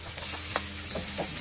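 Ginger hits a hot frying pan while cooking fish, sizzling steadily, with a few soft stirring scrapes over the frying noise and no talking.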